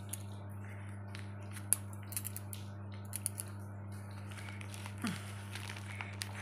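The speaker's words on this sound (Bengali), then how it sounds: "একটা গিফট এসছে, তাই খুলছি, দেখি এর মধ্যে কি আছে" A gift package being unwrapped and opened, with soft crinkling, tapping and tearing of packaging over a low steady hum, quiet and close.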